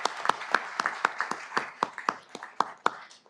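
Audience clapping at a city council meeting, a short burst of scattered, distinct hand claps from a modest crowd, fairly close and alone without speech.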